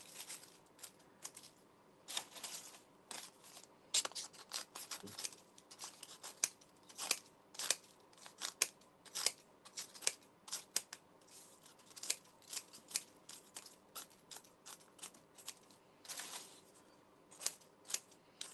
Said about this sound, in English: just use your scissors just to quickly shred up some paper to put inside